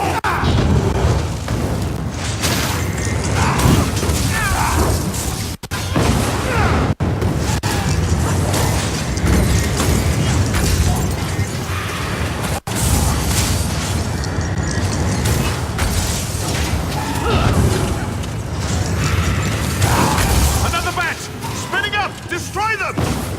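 Clockwork factotums activating and fighting in a video game: loud, dense mechanical clanking and grinding with booming impacts and gunfire-like bangs throughout, while voices shout and talk over the combat.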